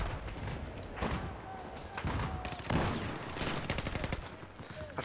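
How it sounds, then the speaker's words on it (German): Mortar and gunfire in a Battlefield 4 multiplayer match, a dense run of sharp shots and booming thumps layered over constant battlefield noise, with brief muffled voices underneath. "Ach, das war nur so ein Mörserding."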